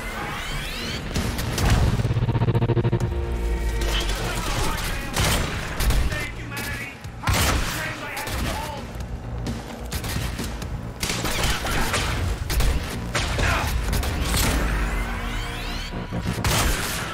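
Soldiers fire guns in a dense fusillade in the video game Quantum Break, with repeated loud bursts, impacts and booms layered over a continuous low rumble.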